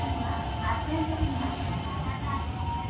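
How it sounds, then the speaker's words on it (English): Steady interior rumble of a Japanese bullet train while riding in its grand class cabin, a constant low drone with faint rail noise throughout, with a voice speaking softly in the cabin. "So this is grand class on the bullet train."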